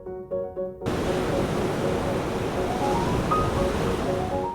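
Ocean surf rolls in steadily at the beach of Amankila resort in Bali, a continuous loud wash of breaking waves that starts abruptly after a brief moment of soft tones and carries on without talk.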